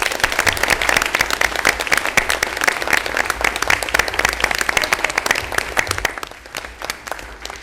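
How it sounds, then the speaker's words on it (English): A crowd at a school board meeting applauds loudly with dense, continuous clapping that slowly thins and fades toward the end. "Let's give the kids a big round of applause"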